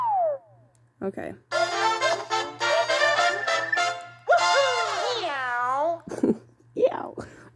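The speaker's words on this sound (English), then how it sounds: "Why is it going like meow?" Cartoonish cat meows from the Super Mario Maker 2 video game, a rapid string of bright, sliding mews that repeat several times, loud and close, with short pauses between bursts.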